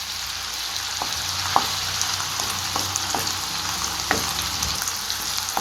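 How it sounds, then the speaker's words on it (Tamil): Ground onion paste sautés in a pan for a chicken gravy, a steady, close frying hiss with soft, occasional taps of a stirring spoon. "சேர்த்து நல்லா வதக்கி விட்டுக்கலாம்."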